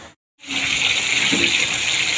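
Water is poured into an oven pan of fish being cooked. After a brief silent gap, a steady, fairly loud gushing stream runs on.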